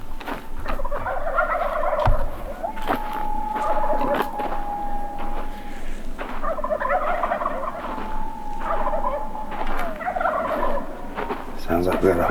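Wild turkeys gobble from their roost on a hillside drainage, repeated rattling gobbles at moderate distance in cold outdoor air, several bursts across the stretch with a faint steady tone and light background noise.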